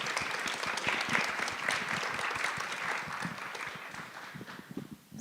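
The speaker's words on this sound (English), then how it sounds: "A huge round of applause," An audience at a live literary event applauds speakers, dense continuous clapping from a crowd that holds steady for several seconds before thinning slightly at the end.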